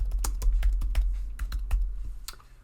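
Close computer keyboard typing, a quick irregular run of about a dozen crisp key clicks with short pauses, heard alone while a name is entered in Photoshop.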